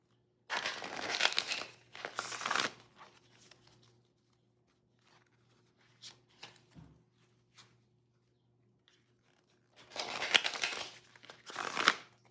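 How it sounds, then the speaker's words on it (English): Tarot cards are shuffled in two short bursts of quick, papery riffling, separated by quiet with a few soft handling taps, close and fairly faint. "I'm actually going to shuffle these because that was so many."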